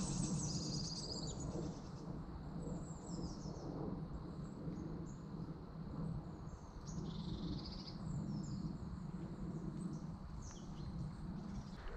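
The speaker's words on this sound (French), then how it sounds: "je vous ai donné une petite dose de zénitude avec les petits chants des oiseaux." Birds sing and chirp by the water, several calls scattered high over a steady low rumble of outdoor ambience, moderately faint and with no talking.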